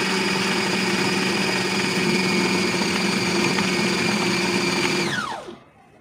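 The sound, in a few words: kitchen grinder machine running, mixing kebab mince with gram flour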